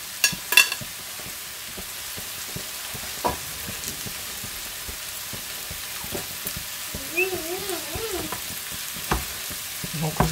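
Corned beef sizzles steadily in a frying pan while a utensil scrapes and stirs with irregular clicks, and a voice briefly speaks over the frying.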